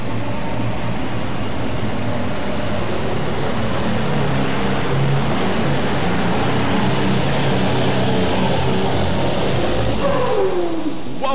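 Turbocharged pulling tractor roars at full power down the track at a 1998 farm machinery show pull, a loud sustained engine drone with a high turbo whine, then the pitch drops sharply near the end as the engine shuts off.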